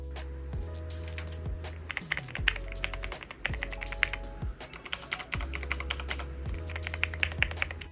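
Fingers type steadily on a B1-PC keyboard, giving dense runs of close, crisp key clicks with occasional heavier thuds, like an ordinary keyboard. A low hum runs underneath and no one speaks.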